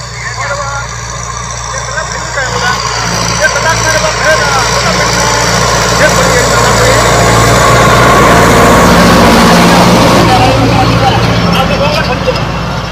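A Kubota MU5501 2WD tractor engine runs as a steady, fairly quiet drone while the tractor turns in a field without the cultivator engaged. Someone talks loudly close by over the engine throughout.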